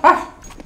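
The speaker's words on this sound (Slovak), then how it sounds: "Dog." A dog gives a single sharp bark, loud and close, that fades quickly into a quiet background.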